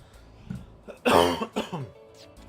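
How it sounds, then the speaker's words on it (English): A person coughs in a burst of several harsh, close hacks, with a throat-clearing edge, between quieter stretches of game audio from Final Fantasy X-2. "The coughing is back."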